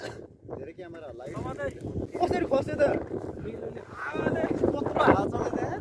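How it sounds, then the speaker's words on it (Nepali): Strong wind buffets the microphone in loud, gusty rumbles during an off-road trip at Devchuli, while people talk over it. "कत्रो हावा चल्दैछ"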